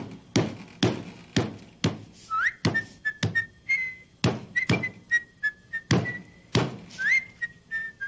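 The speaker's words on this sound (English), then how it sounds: "I was just whistling while I was waiting for you to catch up with me" A person whistling a short, bright tune in a children's TV scene, with regular thumps and taps marking a steady beat as the whistled notes weave between them.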